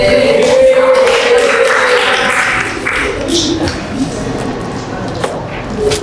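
Classroom applause, a burst of clapping from a group of students that starts loud and then thins into scattered claps, with a teacher's voice speaking over it.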